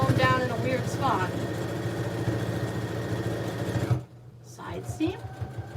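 A sewing machine stitches a tote bag in a steady, fast mechanical run for about four seconds, then stops; a few softer motor sounds follow, with talking throughout.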